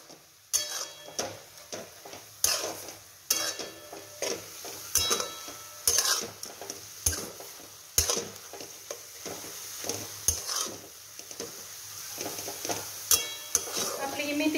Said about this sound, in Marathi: त्याच्यामध्ये आता शेंगदाण्याचा कूट टाकून घ्यायचं. भाजी आता एकजीव करून